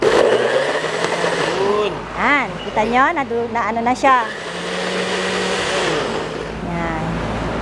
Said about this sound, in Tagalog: Lalagyan lang ng tubig I-blender po natin.